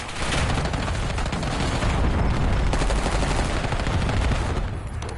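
A sentry turret in a video game fires nonstop, a loud, dense stream of rapid automatic shots with booming undertones filling the whole stretch.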